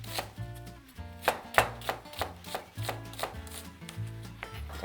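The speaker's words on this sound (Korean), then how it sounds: "양파는 그냥 이렇게 곁대로 아주 얇지 않게 썰어주시면 돼요." A knife slices half an onion into pieces that are not too thin, producing a run of close, rhythmic cuts, each ending in a sharp tap on the board, with no talking.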